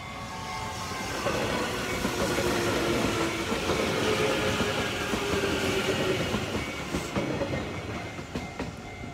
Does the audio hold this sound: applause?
no